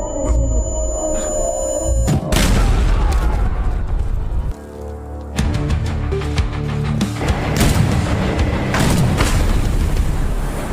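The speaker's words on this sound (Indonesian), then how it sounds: "dampak ledakan granat yang sengaja dipersiapkan si teman laknat" A loud explosive boom bursts out, followed by rumbling, crackling debris and another deep blast toward the end.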